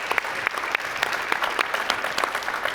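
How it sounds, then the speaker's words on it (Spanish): Audience applause at a round-table session of an education conference welcomes the guest, a steady ripple of many hands clapping at an even level. "me gustaría que le diéramos un enorme aplauso al maestro José Ángel Pescador Osuna"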